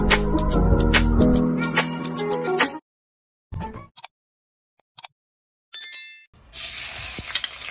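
Pork sizzles and crackles in a hot pan while being sautéed for pork pochero, loud and busy with scraping stir strokes, then broken by silent cuts and brief bursts of sizzling, ending in steady frying.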